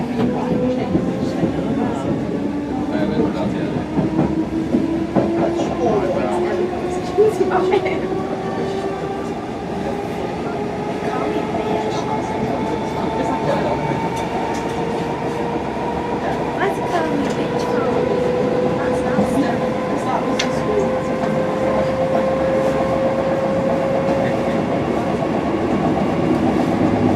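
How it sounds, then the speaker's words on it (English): Steady rumble and rail noise from on board a Liverpool local train running between Hamilton Square and Liverpool Central, a continuous hum of wheels on track with rising whine throughout. "This train is for Liverpool Central."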